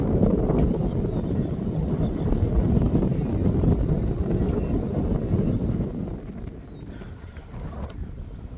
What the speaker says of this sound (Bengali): চমৎকার ঠান্ডা বাতাস